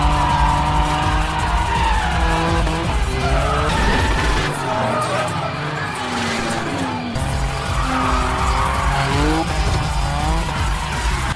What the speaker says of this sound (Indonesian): Berkali-kali dia menabrakkan mobilnya ke tiang basement.